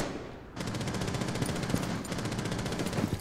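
Dense automatic gunfire from the video game Rainbow Six Siege erupts after a brief quiet lead-in and continues as a loud, rapid, unbroken stream of shots.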